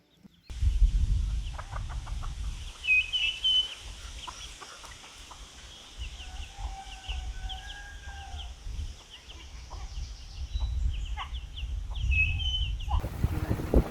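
Pearl, a broody hen, clucks softly with her four Easter Egger and Olive Egger cross chicks, which add thin high peeps. The calls are faint and scattered over a low, blustery outdoor rumble on a windy, rainy day.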